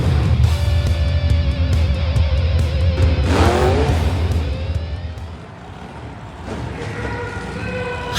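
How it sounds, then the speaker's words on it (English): At a Monster Jam arena, a monster truck tips up on its rear end and rolls over backwards under a loud, continuous engine roar that revs and surges, with arena noise around it. "you put the truck up on its rear end and rolled it over backwards"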